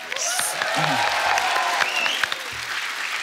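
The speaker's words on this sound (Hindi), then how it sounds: "जोरदार तालियों से स्वागत कीजिए" Studio audience on a television comedy talk show applauding a guest's entrance: steady, dense clapping from a crowd, fairly close and loud, with musical tones and a few voices mixed in over the top.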